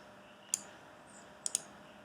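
A few faint, sharp keystroke clicks on a computer keyboard, one alone and then a quick pair, over a quiet room hiss.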